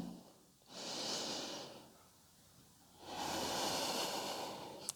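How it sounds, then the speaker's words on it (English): Slow yoga breaths held in a sun salutation pose: two long, airy inhales or exhales, each lasting about one to two seconds, with a quiet pause between them, close and soft with no speech. "Take 5 breaths here."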